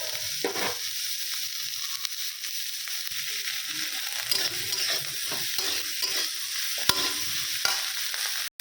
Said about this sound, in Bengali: রসুন, পেঁয়াজ, ক্যাপসিকাম, ছোলা এগুলো একটু হালকা ভেজে নেব